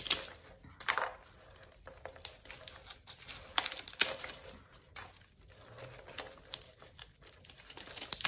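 Knife cutting through sections of an aloe plant during a rescue, heard as close, crisp crunching and snapping cuts in irregular bursts, some louder spikes among quieter fibrous tearing, with no voices.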